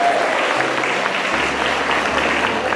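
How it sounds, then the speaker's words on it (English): Sustained applause from a room full of people at a parent meeting, even and continuous throughout, with a low hum underneath. "Give a big round of applause"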